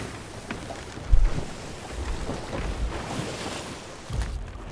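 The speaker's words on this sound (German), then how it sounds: "Wir fahren gerade gegen den Wind." A ship sailing against the wind in the video game Sea of Thieves, with steady rushing wind and water wash around the hull, a few soft thuds and creaks, no talk.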